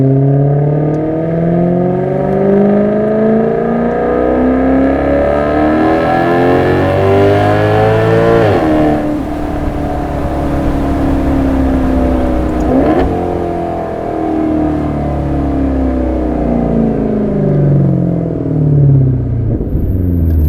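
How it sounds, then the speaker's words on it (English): A 2015 Maserati GranTurismo engine pulls under soft acceleration, its tone rising smoothly through the revs, dipping at two gear changes, then climbing again, loud and close from inside the car. "let's do a little soft acceleration here"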